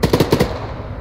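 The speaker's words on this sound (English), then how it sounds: "Shooting one more to the right" Automatic gunfire in the video game Arma 3: a quick burst of about six sharp, closely spaced shots in rapid rhythm, loud and near, followed by a brief fading echo.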